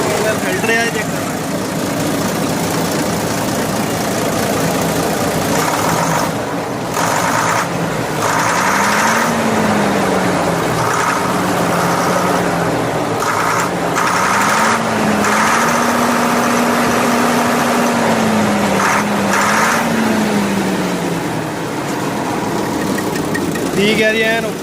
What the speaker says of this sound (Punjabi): ਲਓ ਜੀ, ਸਟਾਰਟ ਤਾਂ ਹੋ ਗਿਆ ਇੰਜਣ